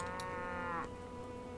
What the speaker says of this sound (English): I think there might be an Auroch herd cow nearby.